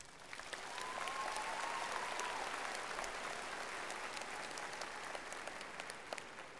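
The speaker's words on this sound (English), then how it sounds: "I think they all deserve a big round of applause." A crowd at a 2019 high school graduation ceremony gives a sustained round of applause, an even, continuous wash of clapping heard from a distance and fairly faint, with almost no talking.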